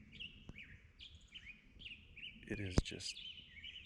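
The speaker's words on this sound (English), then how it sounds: "The birds are going crazy. Hopefully you can hear that." Birds chirp busily outdoors in repeated high, quick calls, some near and some farther off, while a person speaks briefly through the middle of the chorus.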